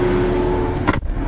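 Rolls-Royce Wraith door closing at the push of a button, a motor hum under a steady interior drone ending in a soft solid thud near the end.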